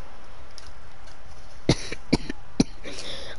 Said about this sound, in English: why I keep coughing, bro? There's no way.